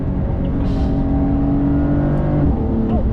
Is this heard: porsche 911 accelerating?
yes